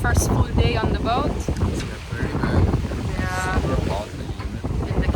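Wind buffets the microphone aboard a 64ft steel sailboat at sea between the Darien Gap and San Blas, with a steady rushing roar over water and hull noise. A voice speaks briefly.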